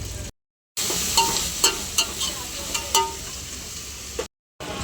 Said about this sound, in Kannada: ಈರುಳ್ಳಿ ಫ್ರೈ ಆಯ್ತು ನೋಡಿ